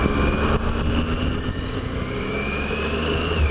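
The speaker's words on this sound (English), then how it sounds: "I think it sounds lovely. I just love that little whistle that the Triumph triples have" Triumph Tiger 800 triple engine idling close by: a steady, low mechanical burble with a faint high whistle running through it, loud and continuous with no talking.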